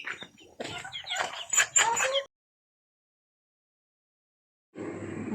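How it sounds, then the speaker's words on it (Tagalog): Chickens clucking and squawking on a small farm, a busy cluster of close bird calls, then a pause before more noisy clucking resumes. "Ang daming manok, guys."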